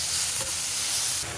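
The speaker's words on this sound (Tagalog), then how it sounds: "O, magpaintay kawali, gisahin natin yung mga rekado." Garlic, onion and tomato sauté in hot oil in a pan, giving a steady close sizzle and hiss with a brief stirring scrape partway through.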